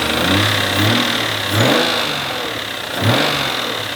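A Porsche GT3 RS engine blipped twice with sharp revs over a steady idle, close and loud, its top end making an audible mechanical noise between the rises, with antifreeze burning out the exhaust.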